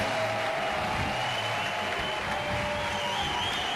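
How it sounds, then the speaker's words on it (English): Steady broadband roar of a stadium crowd applauding during a standing ovation at the women's final of an ultimate frisbee world championship, heard distantly and continuously without breaks. "The entire crowd is giving both teams a standing ovation."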